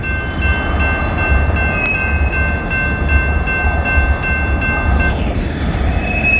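A coal train rolls past on a sunny day, a steady loud rumble of rail cars with continuous low-end roar and faint high tonal squeal throughout, no talking.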